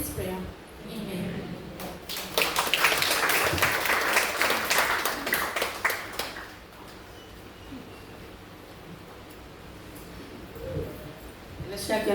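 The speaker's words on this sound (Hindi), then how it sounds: "एलिशा के नाम जोरदार ताली बजाए आज के वचन के लिए" Congregation applause in a church after a sermon, a burst of dense clapping rising around the second mark and fading after about six seconds, with talk before and softer room noise afterward.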